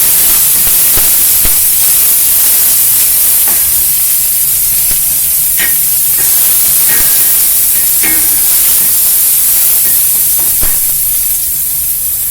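Small shallots dropped into hot oil in a pan sizzle loudly and continuously, a dense hissing fry close up with occasional sharper crackles.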